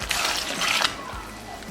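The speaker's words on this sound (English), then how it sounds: "you want to get some cold water and you want to pour it as hard as possible" Cold water pours hard into a pot of soaking grains and peas for Jamaican rice and peas, a loud close rushing splash that fades into softer trickling.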